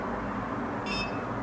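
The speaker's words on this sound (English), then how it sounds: "when you hear that beep" A single short, faint electronic beep from a NuFace facial toning device sounds partway through, sitting over a steady low hum of background noise.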